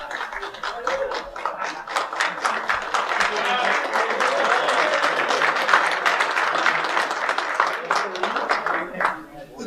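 An evening audience at a Life Directions Detroit gathering claps in a dense, sustained round of applause that stays loud and even before tapering off near the end.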